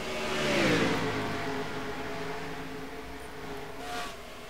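Race car engines on pit road in a NASCAR SEGA Cup Series video game race, revving loudly as a car sweeps past with a falling whine, then fading into a steadier hum with a faint second rise near the end.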